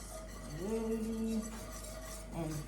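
Milk is whisked into a mac and cheese sauce in a pot, with soft scraping and clinking of the whisk against metal and a faint tonal hum in the background.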